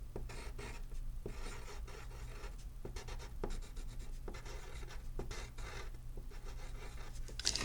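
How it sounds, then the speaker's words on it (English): Pen or marker scratching across a surface while working out a math problem, with steady rasping strokes in short bursts and brief pauses, close and fairly quiet, with no voices. "I will write this over here."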